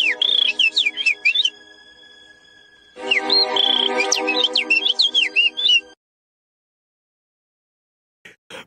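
A person imitates bird chirping with rapid, warbling whistled tweets in two loud bursts separated by a short pause, followed by silence.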